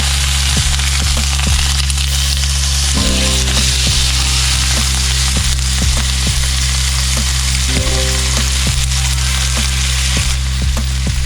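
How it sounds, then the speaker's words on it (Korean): Venison steak sizzles loudly and steadily in a hot frying pan, with crackling pops scattered throughout and no voices. "달군 후라이팬에 스테이크를 굽습니다."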